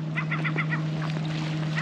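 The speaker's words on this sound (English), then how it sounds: "I hear a seagull." A seagull calls at a lake boat launch in a rapid run of five or six honking cries followed by a couple of fainter calls, heard over a steady low hum with no talk.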